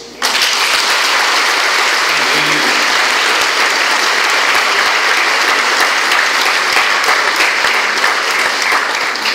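Loud, sustained applause from a church congregation at a wedding ceremony fills the space with a dense roar of clapping that starts abruptly and holds steady throughout.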